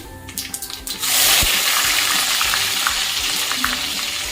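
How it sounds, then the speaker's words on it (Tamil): Cumin seeds spluttering in hot oil for a tomato-based dish, a sudden loud burst of crackling sizzle that settles into a steady, dense frying hiss with scattered pops, close up and with no voices. "சீரகம் அப்புறமா ஒரு ரெண்டு செகண்டில் வந்து அது நல்லா பொரிஞ்சிடும்"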